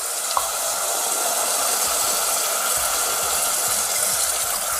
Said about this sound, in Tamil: 1/2 கப்புக்கு 3 கப்பு அவ்வளோதான் தண்ணி இதுக்கு விடணும்